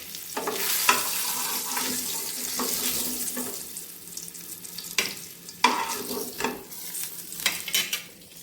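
Pieces of Katla fish frying in hot oil in a home kitchen pan, a steady close sizzle broken by sharp clatters and scrapes as the fish are turned and lifted.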